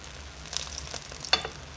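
Eggs fry in hot oil with a soft sizzling crackle, a few louder spits and pops rising near the middle over a steady hiss.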